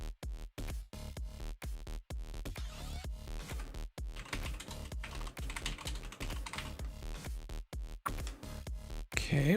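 Steady rapid typing on a computer keyboard, close and clear, with dense key clicks broken by brief pauses and no talking, recorded during a Warframe gaming session.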